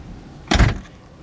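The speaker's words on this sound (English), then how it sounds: "Let me close the door." A car door on a 1966 Ford Thunderbird convertible shuts with a single solid thunk, close and loud, followed by brief quiet.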